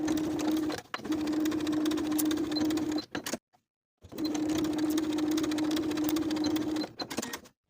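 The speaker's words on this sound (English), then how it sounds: "Sew both seams with a 5/8 inch seam allowance." Sewing machine stitching the shoulder seams of a vintage apron, a steady motor whir in two long runs separated by a brief pause, loud and close with no talk.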